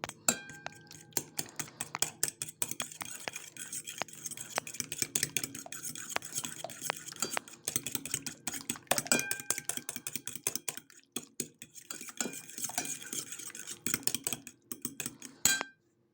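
Repeated scraping and clinking of a utensil stirring an egg and sour cream mixture in a bowl, quick irregular strokes close up, with no talking.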